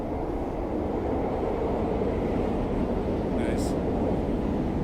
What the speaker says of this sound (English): There's another train, there's a Virgin train.